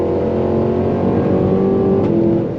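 A 2023 Cadillac Escalade V's engine pulls hard on throttle, a loud, steady roar that holds strong for the whole stretch, close and continuous, with no voices over it.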